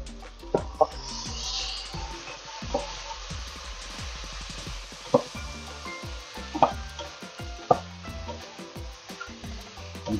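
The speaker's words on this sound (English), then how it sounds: "Just let everything just cook down a little bit." Ginger, garlic and onion fry in a pan with a steady low sizzle, broken by sharp clacks and scrapes of a utensil stirring the pan.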